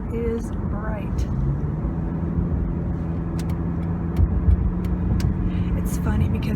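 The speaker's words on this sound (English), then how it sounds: "there's a car that like zoomed past me" A car zooming past on a sunny drive to the grocery store, its engine and tyre rush swelling and fading across the clip while a person talks over it.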